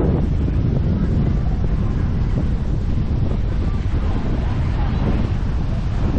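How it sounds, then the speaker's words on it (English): Steady, loud wind buffets the microphone on a beach at Coco Beach, Dar es Salaam, a constant broadband roar with faint surf underneath, running without a break from start to finish. "Windy day, but it's real cool, man."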